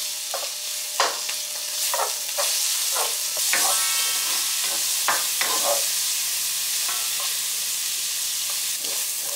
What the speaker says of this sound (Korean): 미리 핏물을 빼놓은 고기를 볶아줍니다.